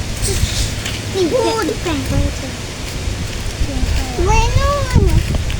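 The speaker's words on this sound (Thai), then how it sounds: "ฝนตกพี่น้องเอ้ยตกอาทิตย์หนึ่งทั้งอาทิตย์เลยพี่น้อง" Steady rain falls without pause, a dense hiss close around, while someone talks over it in two stretches of speech.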